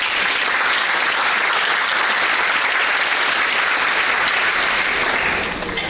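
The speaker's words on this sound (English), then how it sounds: "Let's give her a big round of applause." A large crowd at a scholarship award ceremony claps loudly and continuously, a dense steady wash of applause that only starts to thin in the final moment.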